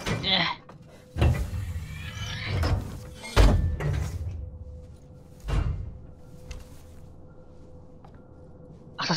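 Heavy sliding doors of an elevator in Alien: Isolation, a few separate loud thumps and mechanical slides spaced across the stretch, over a low steady hum with quiet gaps between.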